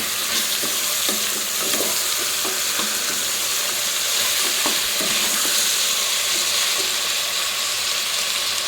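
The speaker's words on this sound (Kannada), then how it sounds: "ಇವಾಗ ಕಟ್ ಮಾಡಿ ಇಟ್ಕೊಂಡಿರುವಂತಹ ತರಕಾರಿಗಳನ್ನ ಕೂಡ ಸೇರಿಸ್ಕೊಳ್ಳಿ." Beans, potato, tomato and onion fry in a pan with a steady, close sizzle throughout, while a utensil stirs and scrapes through the vegetables in intermittent clicks and rattles.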